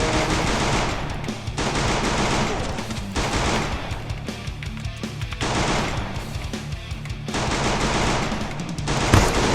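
Rapid automatic gunfire from weapons in the battle royale video game Free Fire, loud and sustained in long bursts with brief gaps, an extra sharp shot near the end.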